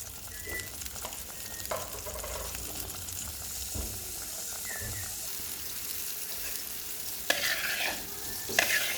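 Spices fry for a fish curry with potatoes and tomatoes, a constant soft sizzle with occasional faint clinks and scrapes, a brief burst of louder activity near the end, no clear talk.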